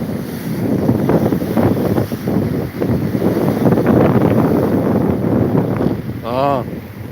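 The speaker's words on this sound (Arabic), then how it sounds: "الهوا واصل عندك، وريحه البحر واصله عندك، وريحه الموج." Strong wind buffets the microphone over the wash of sea waves, with a voice talking underneath and a brief warbling sound near the end.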